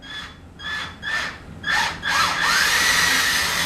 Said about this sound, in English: now I'll drill the actual hole